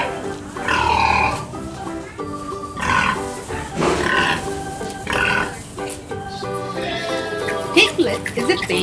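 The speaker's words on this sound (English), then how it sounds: "Piglet is a baby pig." Piglets grunt and squeal on a farm, a busy run of close, loud, overlapping snorts and squeaks, some of them burp-like, with music in the background.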